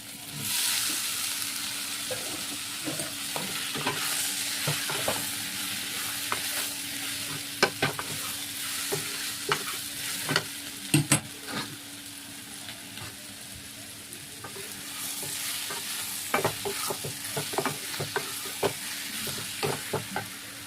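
Potatoes and young jackfruit frying in a cooked-down spice masala, a moderate sizzle under frequent clinking spatula strokes and scrapes against the pan, rhythmic at times, with no speech.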